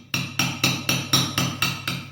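Chisel struck lightly by a mallet while routing waste from a letter R carved in limestone, eight sharp evenly spaced taps at close range, steady rhythm with nothing else heard.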